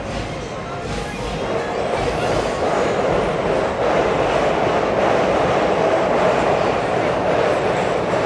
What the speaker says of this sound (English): A harmonious sound of trains.